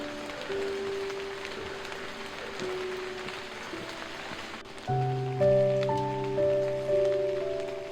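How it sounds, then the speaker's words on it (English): Steady rain patters through a forest during a morning hike, a soft continuous hiss of drops heard under gentle background music that swells partway through. "So we decided to spend the morning hiking in the rain."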